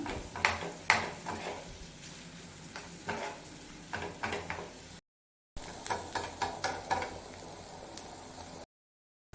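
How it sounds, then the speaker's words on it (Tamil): Onions frying in a pan over a medium flame for a quick chicken gravy, a steady soft sizzle with repeated scraping stirs, moderately close, broken by two short gaps of silence. "மீடியம் ஃப்ளேமில் வச்சு ஃப்ரை பண்ணிக்கோங்க நல்லா ஃப்ரை ஆகணும்"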